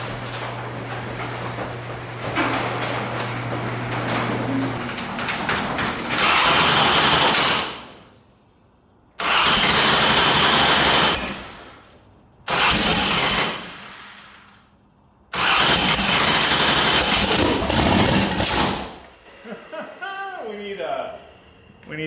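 A 1500hp no-prep Mazda RX7 drag car engine fires up with loud, harsh bursts and revs in several long blasts separated by short pauses, after earlier talk and mechanical noise.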